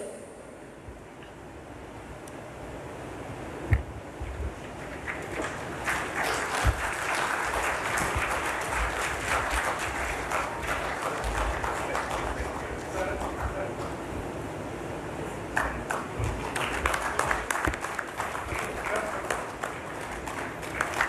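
Attendees at the Kerala Steamer Agents Association annual general meeting applaud a memento presentation: a long, steady wash of clapping that builds after a quiet start, with occasional sharp claps and speech over the hall sound.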